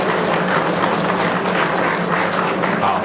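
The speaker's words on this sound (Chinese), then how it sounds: "给自己掌声吧。" Congregants at a True Buddha School Hayagriva ceremony in a Melbourne temple give themselves a round of applause, a thick, steady, loud wash of clapping that holds evenly from start to finish.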